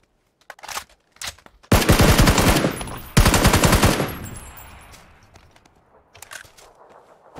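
Two long automatic bursts of rapid gunfire in the online battle royale game PUBG, loud and close, each lasting over a second, with scattered footsteps and faint rustling before and after.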